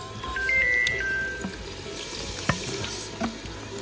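Water runs and splashes from a tap for a few seconds, close by, with a couple of light knocks and a faint tone in the background.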